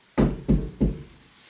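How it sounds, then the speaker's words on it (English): Three firm knocks on a surface in even succession, close and resonant with a hollow low thud, followed by quiet, during a paranormal investigation in a cottage. "Can you knock like this?"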